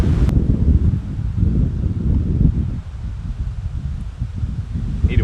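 Wind blowing outdoors at a camp stove test site, gusting and buffeting close to the microphone in a continuous low roar with rustling, no talk.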